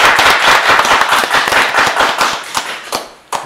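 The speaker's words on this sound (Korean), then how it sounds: "박수 한번 주세요" A small audience claps at the close of a Korean talk show segment after guests are thanked, loud and close, with sharp individual claps in an uneven patter that thins out toward the end.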